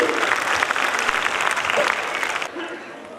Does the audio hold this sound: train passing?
no